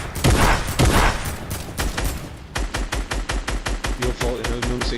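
Gunfire from a Fortnite Battle Royale match: heavy bursts of shots at first, then a rapid steady string of single shots, loud and close, with players talking briefly.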